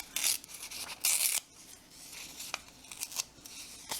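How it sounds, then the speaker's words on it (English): Paper is torn along an edge for a sponging technique in card making, giving several short, close, crisp ripping bursts between quieter rustling handling. "I'm going to go ahead and tear that down a little bit"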